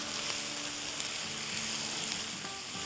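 Onions frying in a pan for burger filling, a soft, even sizzle close by with faint crackles throughout, heard alone without speech.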